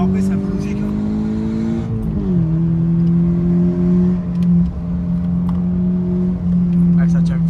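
Toyota GT86 200 hp rear-wheel-drive engine droning steadily from inside the cabin while driving, its pitch dipping once as the revs drop and then holding level, with people talking over it.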